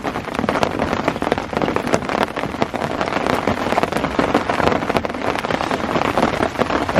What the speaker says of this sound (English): rain's still coming in